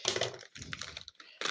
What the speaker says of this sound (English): get the scissors again and just cut into it